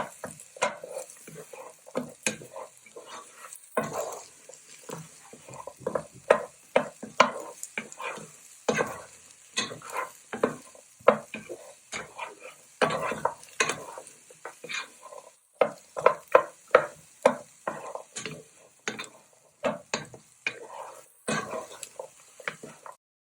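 Baby corn with onion and garlic stir-fried in a pan, quick irregular scraping and stirring strokes over a soft sizzle, close and continuous with no talking.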